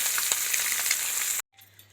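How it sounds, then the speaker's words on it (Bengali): Fish sizzles and spits in a hot pan of oil in a home kitchen, a steady close crackle with small pops that cuts off abruptly, leaving a faint quiet hiss. "এবার মাছটা ভাজা হচ্ছে"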